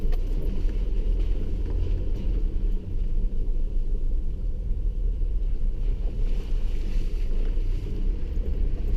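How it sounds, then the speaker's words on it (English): Off-road vehicle driving a creek track in the Flinders Ranges, wheels splashing through shallow water under a steady loud engine rumble and churning wash throughout, with no talk. "always love the water splashing against the wheels"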